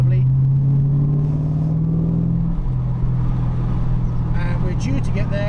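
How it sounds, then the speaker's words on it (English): A car engine idles with a steady low burble and a faint rise in pitch partway through, while someone talks over it inside the cabin. "my car is sounding lovely and burbly"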